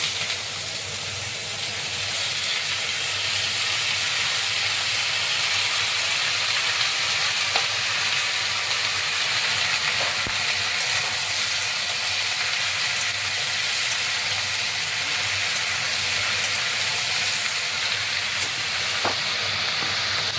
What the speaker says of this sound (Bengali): লাউ আর উচ্ছে দিয়ে দিলাম কড়াই